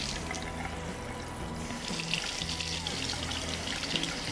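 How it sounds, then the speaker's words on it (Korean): Eyeglasses being rinsed under cold running tap water, a steady gentle stream splashing and trickling continuously into a sink at close range. "이렇게 하신 다음에 물로 헹궈내는데 따뜻한 물 안 돼요. 차가운 물로 헹구셔야 돼요."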